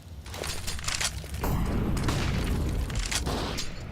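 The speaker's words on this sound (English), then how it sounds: "nice nade from Nico" A grenade detonates in a Counter-Strike match, a deep boom swelling midway and rolling on as low rumble, preceded by sharp clicks and crackling gunfire in the background.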